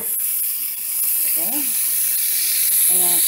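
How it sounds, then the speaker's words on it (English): Hamburger meat fries in a frying pan with a loud, steady, close sizzle and hiss that runs the whole time, while a voice speaks briefly over it. "Put that in the frying pan."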